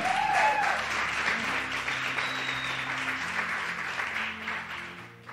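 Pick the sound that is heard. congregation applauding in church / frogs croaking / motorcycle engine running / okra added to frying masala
congregation applauding in church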